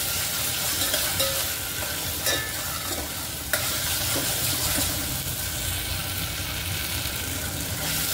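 Lentils stir-fried in a pan for methi khichdi, a steady loud sizzle with the scrape and rustle of stirring running throughout, plus a couple of sharp utensil knocks, no talk.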